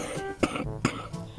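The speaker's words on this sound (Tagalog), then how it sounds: "Ay, inuubo na ako." An elderly woman coughs twice in quick succession, short harsh bursts close by at low volume, followed by a softer throat-clearing catch.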